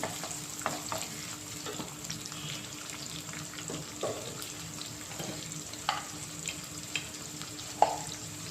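Onions and green chillies frying in oil in a pan, a soft continuous sizzle with occasional stirring clinks and scrapes spaced through, no voices.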